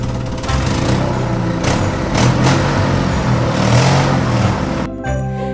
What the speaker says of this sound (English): very soon they could hear his truck motoring towards them.